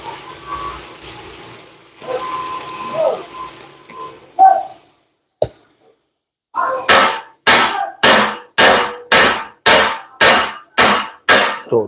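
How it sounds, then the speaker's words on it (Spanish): Hammering on the welded edge of an Isuzu FVR truck leaf spring: a few scattered workshop knocks and scrapes, a pause, then a run of about ten sharp, evenly spaced metallic hammer strikes. "Aplicamos soldadura y martillamos."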